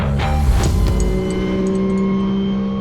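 Porsche Carrera Cup race car at speed on the Red Bull Ring: a loud, close engine roars at high revs, then holds a steady droning pitch with faint tire noise.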